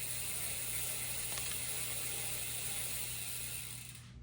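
Lubed Shimano XT chain on a mountain bike being wiped down while the cranks turn, a steady close ratcheting whir of the freehub and chain running continuously before easing off at the end, no talking.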